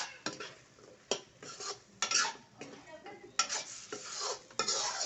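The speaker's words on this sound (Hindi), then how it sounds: "और मिला लेते हैं अच्छी तरह से" A spoon scrapes and stirs soybean egg curry in a pan, being cooked down fairly dry, in repeated close strokes with a light sizzle between them and no talking.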